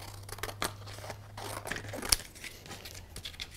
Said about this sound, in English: And now we're just going to cut these out.